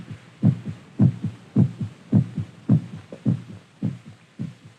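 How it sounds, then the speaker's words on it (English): A human heart pounding in steady, regular double thumps, about two per second, deep and close with a low throbbing hum between beats and no voices. "The sound of our heart pounding against our ribs."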